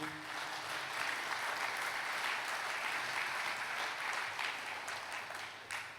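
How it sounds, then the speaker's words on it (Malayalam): An audience at a Christian sermon claps hands in sustained, dense applause lasting several seconds at moderate distance, fading slightly at the end. "ഒന്ന് കൈയുയർത്തി കൈയടിച്ചേ"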